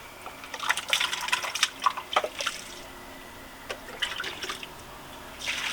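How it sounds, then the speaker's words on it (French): Water splashes and drips irregularly as a small container is rinsed out, with bursts of sloshing liquid, a quiet gap, then renewed splashing and a brief gush at the end, close and moderately loud. "Je vais rincer mon petit récipient également."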